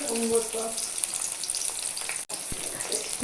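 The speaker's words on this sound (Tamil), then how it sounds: "எண்ணெயில் பொரிய விட்டுருக்குறாங்க" Onion, curry leaves and dried red chillies fry in hot oil with mustard seeds, giving a steady bright sizzle. A brief drop in the middle suggests a short break before the crackle resumes close up.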